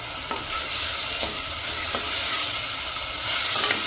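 A steady, loud sizzle of tempering frying in a hot pan, with tamarind water added, and a few faint scrapes of stirring.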